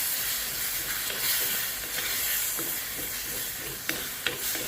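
A spoon works curd into paneer masala in a hot pan, a steady soft scraping and sizzle with a low hiss throughout and a couple of sharper clinks toward the end; no voices.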